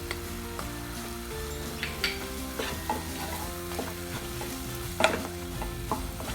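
Mango ginger pickle with salt and chili powder sautéing in a pan, a close sizzle broken by frequent stirring scrapes and clinks, with one louder scrape near the end.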